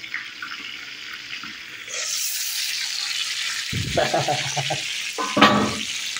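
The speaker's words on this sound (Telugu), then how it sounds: "జీలకర్ర పొడి, కారం, అల్లం, పసుపు, కొంచెం నూనె, ఇలా అన్ని రకాల మసాలాలు కలిపి దీన్ని ఫ్రై చేస్తున్నాను" Quail pieces hitting hot oil with cumin, chili, ginger and turmeric, a steady bright sizzle starting abruptly and running on, broken by a few close clattering scrapes of stirring in the pan.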